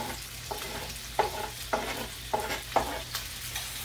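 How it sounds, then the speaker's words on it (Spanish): Chopped onion sizzles in a hot pan, and a spoon stirs it in regular scraping strokes roughly every half second over the constant frying hiss. "Ahí echamos nuestra cebolla."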